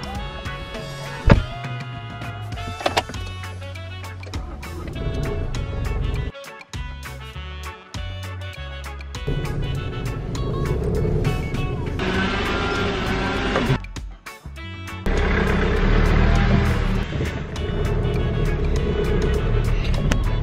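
A car moves off at the start of a safari drive, its engine a continuous nearby drone that shifts in level and character over about twenty seconds, with sharp clicks and other sounds mixed in.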